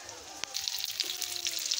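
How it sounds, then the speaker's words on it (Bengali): Pumpkin slices fry in hot oil, giving a steady close sizzle and crackle with a few sharper pops, and no voices over it. "এইবার বসিয়েছি কুমড়ো ভাজা"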